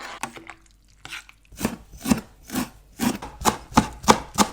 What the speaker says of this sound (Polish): W tym czasie pomidora kroimy w kostkę.